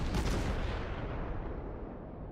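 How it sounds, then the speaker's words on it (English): Naval guns fire their first ranging shots from the heavy cruiser Pensacola in a naval battle game, a deep, booming salvo whose rumble slowly decays over a couple of seconds. "First ranging shots."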